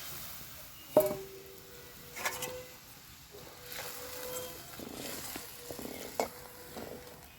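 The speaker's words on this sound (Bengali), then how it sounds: "এবার আমি মাছগুলোকে এর মধ্যে ঢেলে দেবো।" Small parshe fish are tipped into a pan of mustard paste with turmeric, sugar and coriander leaves, giving a soft frying sizzle punctuated by several sharp clinks and scrapes of a utensil against the pan.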